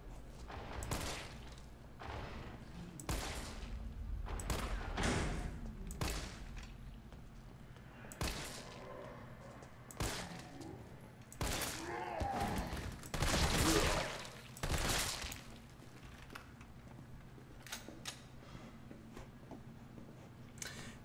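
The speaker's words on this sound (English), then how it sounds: "Before I continue shooting." Gunfire in the video game Resident Evil 3: a string of separate sharp shots, some louder and clustered, spaced irregularly over a low game background.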